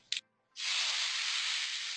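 A short hiss, a brief pause, then a loud, steady sizzle as hot cumin tempering hits the pakora kadhi and keeps crackling.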